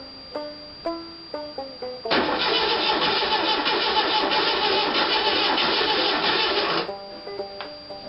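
A 1975 VW engine on a cold start: rhythmic starter cranking pulses, then a loud, sustained rough churning for several seconds before dropping back to uneven cranking.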